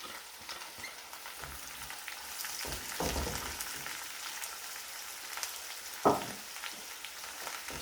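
Vegetables and chicken sauté gently in a pan with a steady close sizzle, broken by stirring scrapes and one sharper knock near the end, and nobody talks.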